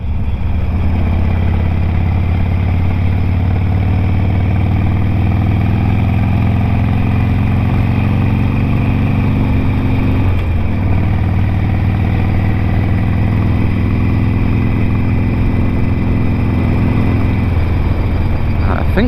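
Steady low rumble of a Harley-Davidson Sportster 883 motorcycle engine while riding, continuous and loud, with wind noise and a brief dip midway, and a voice talking over it.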